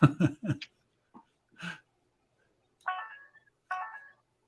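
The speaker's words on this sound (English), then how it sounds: "That must be your Telegram notifications going off, Marty." Telegram notification chimes on a phone sound twice, short bright tonal blips heard faintly over a call line after a few spoken words.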